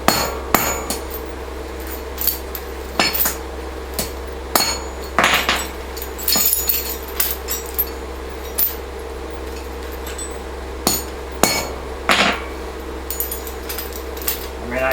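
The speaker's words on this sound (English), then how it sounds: "But a little hammer persuasion" A hammer striking a stretched steel tire chain link, sharp metallic clinks coming in irregular single blows and short clusters, close and loud over a steady low hum, with a voice occasionally heard.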